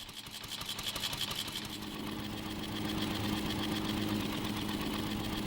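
A vintage Harley-Davidson motorcycle engine runs steadily with a rapid, even mechanical beat and a slight rise in intensity partway through, sounding close and continuous with no talking.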